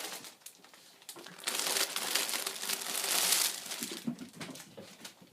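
Crinkly plastic yarn packaging is handled up close, giving dense crackling and crumpling that swells in the middle and fades, with no talk.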